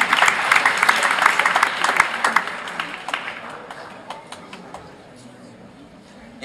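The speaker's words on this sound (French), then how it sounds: "Et on applaudit bien." Applause from the audience at an awards ceremony, fairly full at first and then thinning into scattered individual claps that fade out toward the end.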